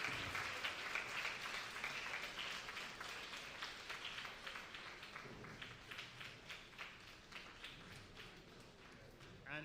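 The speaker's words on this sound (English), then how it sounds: "You have to keep the applause going." Applause for student performers from a primary school at a teachers' association education conference, a steady crowd clapping that runs throughout, with voices mixed in and some rhythmic hand beats.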